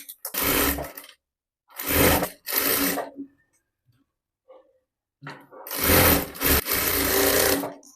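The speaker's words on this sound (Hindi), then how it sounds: "यहाँ पे मैं नीचे की तरफ से सिलाई लगाऊंगी" Sewing machine stitching a seam on a long designer blouse top, running in three short bursts, then a brief lull with faint handling noises and a longer loud run toward the end.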